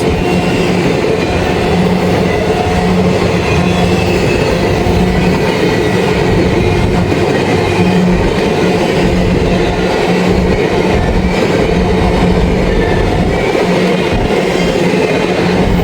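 A CSX freight train with a long string of empty cars, including auto racks, rolls steadily past at close range, a continuous loud rumble with rhythmic clickety-clack of wheels over rail joints and no voices.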